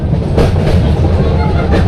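A metre gauge train on the Junagadh–Delvada line rumbles along close by, loud and steady, with faint rhythmic clatter of wheels on the track.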